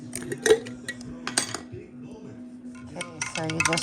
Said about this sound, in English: you just want to stir it until all of the honey dissolves